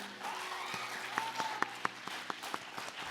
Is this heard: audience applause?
yes